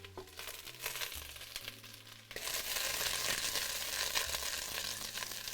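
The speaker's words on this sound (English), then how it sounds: "All that cheeky sizzle, onions, carrots, the celery" Onions, carrots and celery hit a hot pan and break into a loud, steady sizzle, quieter crackling at first, then a dense continuous hiss that fills the rest close up with no talk.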